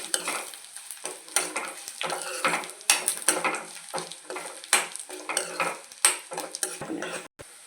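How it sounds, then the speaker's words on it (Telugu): Dried red chillies and cumin crackle in hot oil in a pan for a tempering, with repeated close spoon scrapes and clinks against the metal in an uneven stirring rhythm and a light sizzle underneath, no voices. "ఇప్పుడు బాగా వేపుకోవచ్చండి."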